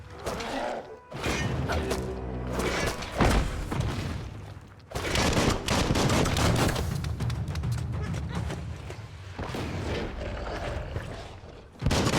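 Gunfire in the video game Biomutant comes in bursts of sharp blasts among clattering mechanical impacts. Loud stretches are broken by short lulls.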